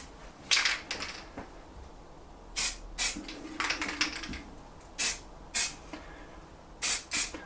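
Short bursts of aerosol spray paint hissing on and off in an irregular rhythm, close by, with quiet pauses between each spray, painting an airsoft rifle.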